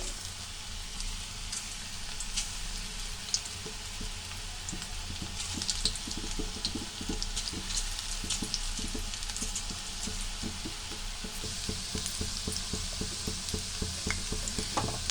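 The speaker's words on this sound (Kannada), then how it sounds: "ಮತ್ತೆ ಇನ್ನೊಂದು ಸಾರಿ ಪಕೋಡ ಹಾಕೊತಾ ಇದ್ದೀನಿ ಎಣ್ಣೆಯಲ್ಲಿ" Onion pakoda frying in hot oil, a steady close crackling sizzle with dense bursts of popping bubbles throughout, continuous and fairly loud with no talk.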